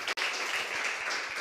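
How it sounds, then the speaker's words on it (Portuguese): A church congregation bursts into dense, continuous clapping, a steady wash of applause that fills the whole short moment after a brief cut. "palmas para Jesus"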